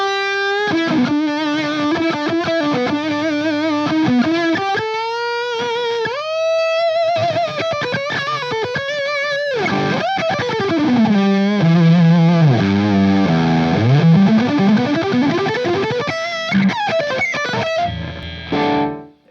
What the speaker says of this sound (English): it's just fun to play with that much distortion